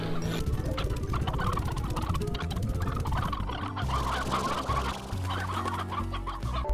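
Chickens cluck and squawk continuously in the video game Slime Rancher, a dense, crowded flock sound over a steady background.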